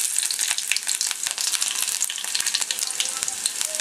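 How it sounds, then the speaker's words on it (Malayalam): Sliced onion rings fry in hot oil with spluttering mustard seeds while pumpkin erissery is being prepared: a loud, continuous sizzle with scattered sharp pops and crackles close by. "കടുക് പൊട്ടിക്കഴിയുമ്പോൾ ഒരു ഉള്ളി വട്ടത്തിൽ അരിഞ്ഞതാണ്"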